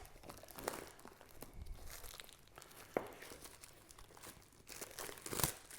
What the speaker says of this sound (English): I'm just gonna break open the plastic.